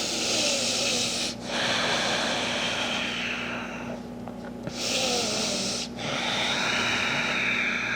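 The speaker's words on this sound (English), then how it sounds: "3 deep breaths here." Slow, deep breaths during a yoga flow, long steady airy inhales and exhales close to the mic, separated by brief pauses, with no talking.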